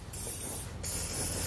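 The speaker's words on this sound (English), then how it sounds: "we're going to go ahead and take some spray lubricant" Spray lubricant is blasted from an aerosol can into the road-grime-filled threads of a hidden trailer hitch on a 2014 Volkswagen Jetta: two close, steady hissing bursts separated by a short pause.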